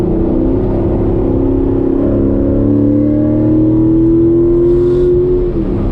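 A C7 Corvette Grand Sport, a fast rear-wheel-drive car, accelerating hard on a night drive, its engine note climbing steadily and loudly for several seconds from inside the cabin before easing off.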